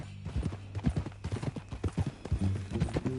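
Horse hooves clip-clop in a steady walking rhythm, close and distinct, with a low hum underneath and a brief voice near the end, in the video game Red Dead Redemption 2.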